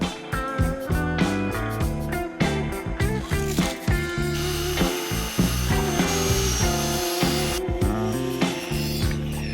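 Wooden boards being cut during a box truck conversion: loud, rhythmic rasping strokes repeat rapidly and close by, blending into a sustained grinding stretch before the strokes resume.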